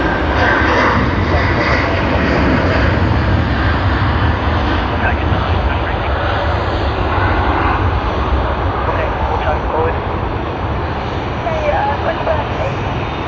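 Korean Air 402, a jet airliner bound from Sydney Airport for Seoul Incheon, gives off a broad, steady, loud engine roar that fades a little toward the end, with voices talking underneath.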